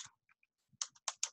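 Typing on a computer keyboard: a short run of sharp, close key clicks, sparse at first, then several quick taps in succession, with no talk.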